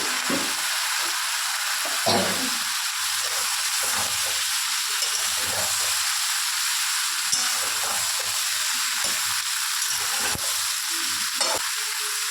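Carrots and yardlong beans frying in a pan, a continuous close sizzle with occasional stirring scrapes and clinks, loud and steady with no talking.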